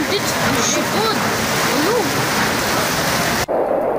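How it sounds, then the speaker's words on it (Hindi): Heavy rain pours down in Pune, India, amid severe flooding, a dense continuous hiss and splatter that stays loud throughout, with a sudden cut near the end. "पुणे में भारी बारिश का कहर।"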